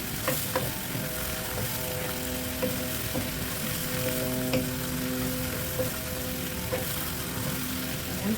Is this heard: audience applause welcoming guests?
no